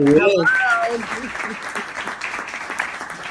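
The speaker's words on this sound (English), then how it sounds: "We got to give her a hand clap." An audience applauds for a woman named Brittany, a brief voice at the start giving way to steady, dense clapping that carries on to the end.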